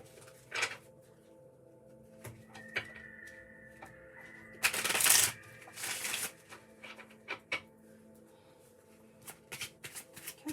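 Tarot and oracle cards are shuffled close by: scattered taps and slides, then a loud riffle in the middle and a shorter one after, with quieter card handling to finish.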